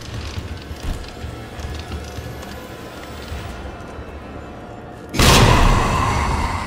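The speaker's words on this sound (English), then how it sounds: "Take this grenade." A grenade goes off in the Resident Evil 2 video game: a sudden, loud, broadband blast bursts in near the end and holds as a roaring wash over the steady low rumble of the game's ambience.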